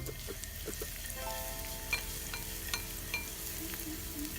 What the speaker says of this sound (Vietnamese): Dầu nó đã sôi rồi mình sẽ cho tỏi với hành vô phi trước.